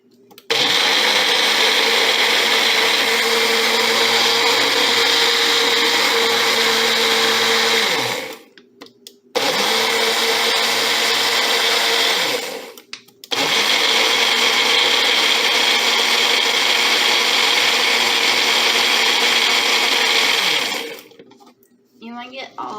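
A kitchen blender blends blueberries and apple in a loud, continuous whirring roar, stopping briefly twice before running again and then winding down near the end.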